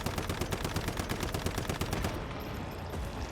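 Rapid automatic weapon fire from the game Once Human, a dense unbroken stream of close, loud shots with no pauses over a few seconds.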